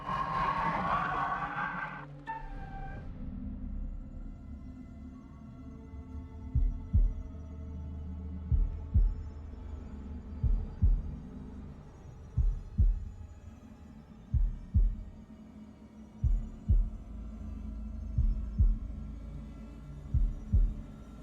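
Slow, steady heartbeat thumps in the horror video game The Dark Pictures: House of Ashes, repeating in a regular double-pulse rhythm over a low droning ambience, with no talking.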